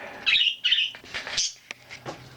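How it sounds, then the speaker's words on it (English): Pet budgies chirp and tweet in a run of bright, close calls, with a few wing flaps and quiet thumps mixed in. "I hear some chirping and flying going on over there."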